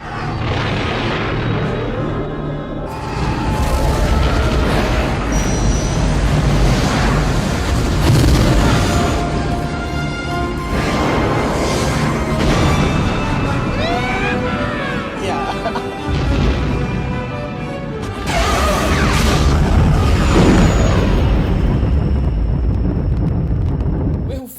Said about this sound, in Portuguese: ele mostra uma cena em que ocorre uma explosão de uma aeronave no espaço